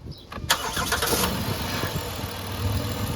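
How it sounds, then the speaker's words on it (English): A car engine cranks and catches, then settles into a steady idle during a transmission fluid additive test; the start is loud and close, followed by an even, rumbling run with no talk. "I gotta start the engine and idle it"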